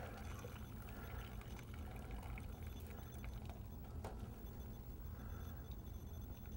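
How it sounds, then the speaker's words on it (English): Water drains out of a pot of cooked noodles, a faint, steady pouring and trickling with a few small knocks, close by and without talk. "Trying to get the rest of the water out of there."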